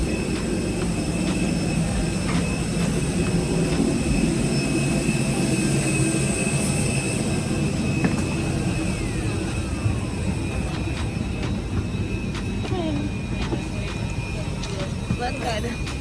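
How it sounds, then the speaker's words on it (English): An airliner's jet engine drones steadily in a cabin, with a constant broadband roar and hum that stays even throughout while people talk faintly underneath. "guys, I'm gonna show you the plane."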